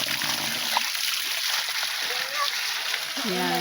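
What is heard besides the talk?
fresh tap water flowing from a natural source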